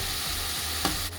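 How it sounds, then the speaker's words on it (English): Chicken pieces sizzle and fry in a pan during meal prep, a steady loud hiss of crackling oil that holds constant throughout, with one brief louder pop near the end. "So once your chicken is nicely frying off to the side, making lots of noise"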